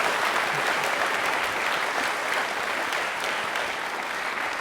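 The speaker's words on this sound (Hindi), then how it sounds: "क्या बात है, तालियां हो जानी चाहिए, इस बात पर हमारी तारीफ हो रही है भाई" Audience applause for students at a university quiz programme, a full, continuous patter of many hands clapping, loud and steady throughout with no voices on top.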